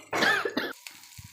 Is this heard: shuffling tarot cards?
no